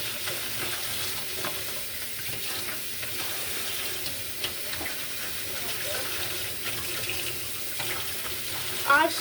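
Tap water running steadily into a kitchen sink that is filling with soapy water for washing dishes, a continuous close rush with a few small clinks and splashes, heard alone.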